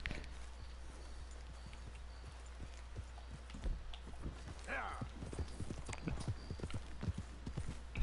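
Steady clip-clopping of horse hooves on a hard surface in Red Dead Redemption 2, with a brief whinny partway through, under a constant low hum.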